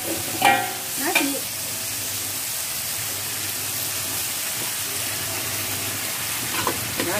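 Freshly cooked rice stir-fried in a pan for nasi goreng, seasoned with a little salt: a steady, close sizzle of frying with a couple of scraping stirs near the start and another near the end, no talking.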